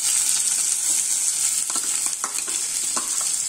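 Onion tossed into hot oil with popped mustard seeds and curry leaves for adai batter gives a steady close-up sizzle, with a few soft stirring taps in the second half.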